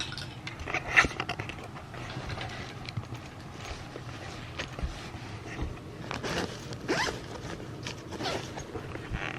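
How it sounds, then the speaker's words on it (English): A packing organizer bag from a six-piece set being unzipped and zipped, with quick scratchy zipper pulls standing out close up against a steady rustling background. "So as you can see, you can unzip very easily and zip."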